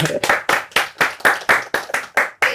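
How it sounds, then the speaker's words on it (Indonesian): About ten sharp, evenly spaced hand claps ring out close and fairly loud during a talk-show chat, a steady rhythmic clapping rather than a dense crowd wash, with no speech. "Boleh minta tepuk tangan gak buat si AA?"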